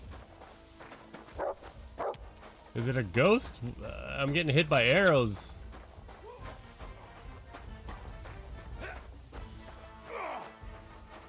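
A dog barks in the video game Kingdom Come: Deliverance 2, giving a series of loud, yelping barks in the middle amid game noise, with someone talking throughout.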